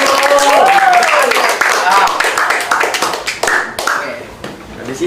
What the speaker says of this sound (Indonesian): Tolong memberi tepuk tangan ke Madi.